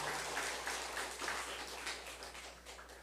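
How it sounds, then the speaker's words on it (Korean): A church congregation at a Sunday service applauds a couple, a steady patter of many hands at moderate volume that eases off slightly toward the end, with no speech. "뜨거운 박수로 축복해 주시기 바랍니다"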